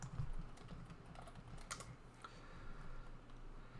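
Computer keyboard keys tapped in short bursts, close by and fairly quiet, with a low room rumble beneath; no voices.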